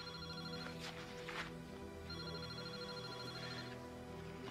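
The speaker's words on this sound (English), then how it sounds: "Your cellular phone's been ringing off the hook." Cellular phone ringing in a repeating electronic ring pattern, moderately quiet, over a steady background hum with no talk.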